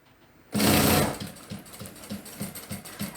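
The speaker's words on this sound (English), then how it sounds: "I'll start sewing." A ProSew PS-1987A industrial lockstitch sewing machine starts with a loud burst of motor whir, then settles into a steady run with regular thumping stitch beats about three times a second, close and alone.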